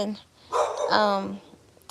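A guard dog barks a couple of short yips outdoors at close range, mixed with a voice talking.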